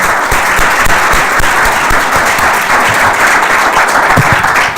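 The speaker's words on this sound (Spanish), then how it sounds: "un aplauso" A lecture audience breaks into loud, sustained applause after a talk, a dense and even roar of many hands clapping with no voices over it.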